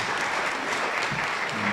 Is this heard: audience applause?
yes